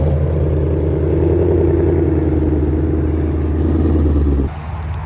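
Shelby GT500 V8 idling and rumbling steadily up close on a first drive, a deep continuous engine drone that drops sharply near the end.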